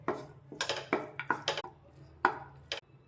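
A spoon scrapes and clinks against a pan as vermicelli is stirred into a tempering of cashews and turmeric, giving a series of sharp, irregular knocks close by with no talking.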